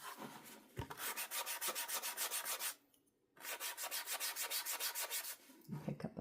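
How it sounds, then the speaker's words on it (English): A paintbrush scuffs paint off on a palette for a dry-brush highlight, making loud, rapid rhythmic scrubbing strokes in two long bursts separated by a brief pause, close and alone. "Pick up a bit more of the color, scuff it off again on the palette."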